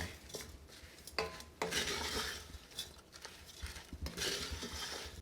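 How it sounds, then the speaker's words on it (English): A spoon stirs seasoned ingredients with salt and freshly ground pepper in a bowl, giving soft scraping and clinking strokes at close range, quiet and irregular with no talking. "And mix them all together."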